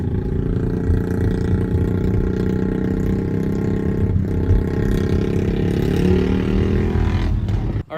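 A Royal Enfield Classic 500 motorcycle's single-cylinder engine thumps in a low, steady rumble close by, holding a constant throbbing note before briefly dipping at the end.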